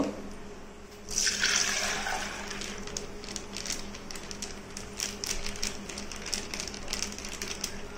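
Milk from a cut packet poured through a strainer into a pot for making sour yogurt, a soft liquid trickle and splash starting after a second and continuing steadily at moderate, close level, with no talking.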